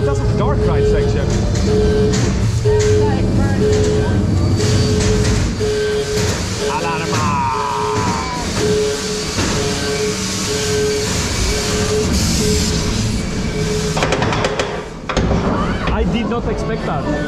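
The Mammut roller coaster at Tripsdrill, a ride through a sawmill-themed dark section: a loud, continuous rumble and clatter of wheels on track with rattling and mechanical whines, close and sustained under riders' voices.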